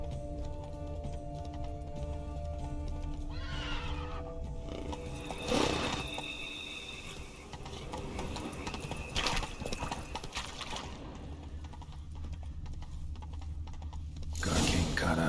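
Steady clip-clop of hooves with spooked horses whinnying a couple of times over a dense soundscape in The Witcher 3: Wild Hunt, no talking.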